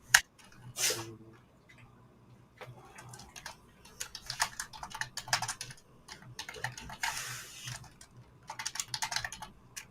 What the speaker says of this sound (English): I don't know why I'm typing this in the chat